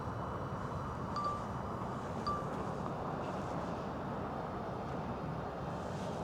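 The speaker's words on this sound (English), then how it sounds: "It is a little bit windy today." Steady wind blowing outdoors at Red Rocks buffets the microphone in a constant low roar, with a faint whirring drone in the background and no speech.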